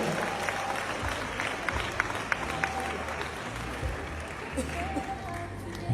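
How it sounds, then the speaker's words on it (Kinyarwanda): Applause from wedding guests, a moderate, even patter of many hands clapping across the whole stretch, with faint background chatter beneath it. "Umukunda wese amumera amashyi menshi cyane"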